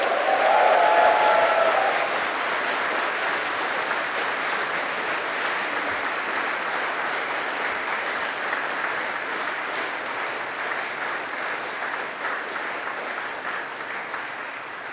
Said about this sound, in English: now show your appreciation to the people who have supported you. Clap, cheer, whistle.